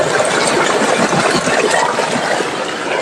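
A solar AC/DC open well pump lifts water from about 60 feet and pours it out through a 3-inch delivery pipe. The water rushes and splashes loudly and close by in one unbroken gush.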